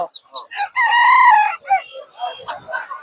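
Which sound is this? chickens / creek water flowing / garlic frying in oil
chickens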